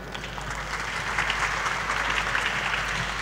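An audience claps steadily at a corporate public expose meeting, a dense even applause that holds for a few seconds, a little swell partway through, with no voices over it.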